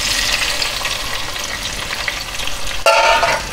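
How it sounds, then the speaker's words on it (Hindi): Tomatoes dropped into about half a cup of hot oil fry with a loud, steady crackling sizzle, flaring briefly as more hits the pan near the end. "ये ऑयल हमने गरम कर लिया है और तकरीबन हाफ कप ऑयल है और इसमें मैं डाल रही हूँ टमाटर"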